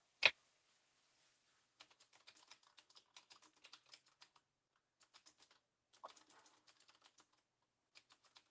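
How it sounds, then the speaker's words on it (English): Typing on a computer keyboard comes in short, quiet bursts of rapid clicks separated by pauses, starting with a single sharp knock, close and with no talking. "Let me type it here."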